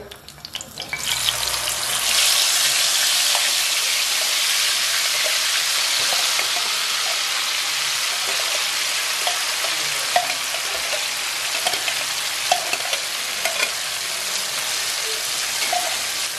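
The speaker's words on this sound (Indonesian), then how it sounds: "Kita tumis bumbunya sekarang ya" Coarsely ground balado spice paste stir-fried in hot oil, giving a loud, dense, rain-like sizzle that swells after a quiet start and holds steady, with small pops and scraping stirs throughout.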